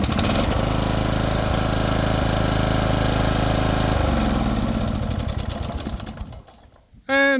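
Ride-on lawn mower engine running loud and steady after being fired up during a repair, then winding down and cutting out near the end, followed by a brief voice.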